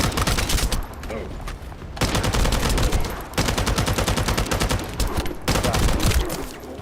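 Dense, continuous video game gunfire crackles in rapid bursts, loud and close, with short breaks between volleys.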